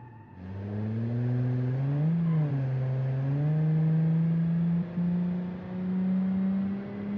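An in-game car engine in the racing simulator Automation revs up loudly and alone, a steady mid-pitched drone that dips briefly, then climbs and holds a strained high note, with a short lift near the end.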